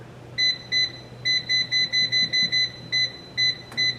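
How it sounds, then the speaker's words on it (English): A kitchen timer beeps about a dozen times in short, shrill electronic pulses, at a mostly steady but slightly uneven rhythm, close and clear over a low background hum while fries are cooking. "the second timer went off, so it's time to take the fries out"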